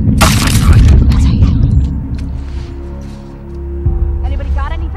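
A gunshot goes off in the video game The Last of Us Part II as a loud, booming crack followed by a rumbling tail. A person talks over the game audio.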